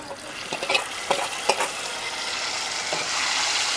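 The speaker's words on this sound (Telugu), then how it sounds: "ఈ కలర్ రాగానే మనం నూరు పెట్టుకున్న పచ్చడిని కూడా ఇలా వేసుకోవాలి" Ground tomato chutney goes into a hot oil tempering and is stirred: a steady close sizzle with a few sharp scraping clicks of a spoon against the pan, alone with no voices.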